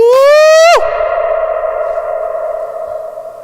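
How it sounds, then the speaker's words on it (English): A loud rising electric guitar tone cuts off abruptly as compression releases, leaving a long sustained reverberant tail that rings on and slowly fades over several seconds. "as soon as you stop, the compression explodes out and the reverb really sails"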